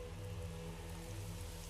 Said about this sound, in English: That rain changes the mood and so much.